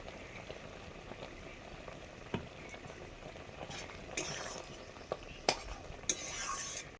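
A cucumber and shrimp chutney with sugar bubbles gently in a pan while a utensil stirs it, soft simmering broken by several sharp scraping clinks.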